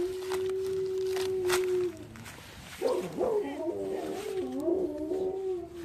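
A dog holds a long, steady howl, then breaks into wavering, rising-and-falling howls and whimpers alongside other dogs, as if joining a pack, heard close and fairly loud with a person talking over it.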